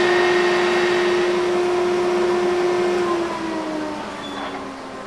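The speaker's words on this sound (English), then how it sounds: "This does a really good job at getting all the sand off." A foundry machine cleans casting sand off freshly cast metal window hardware, giving a loud, steady mechanical drone with a sustained hum that runs throughout, then eases slightly toward the end.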